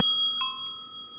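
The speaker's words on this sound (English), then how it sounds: "These bells are very interesting." A single bright ring from the bell of a vintage-style Gazelle Tour Populaire Dutch bicycle, struck at the start and again a moment later, its clear metallic tone ringing on and slowly fading, close and alone.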